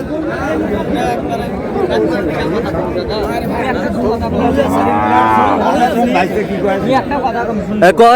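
A cow lets out a long, drawn-out moo while several people chatter nearby, with a constant murmur of voices throughout, at a cattle market.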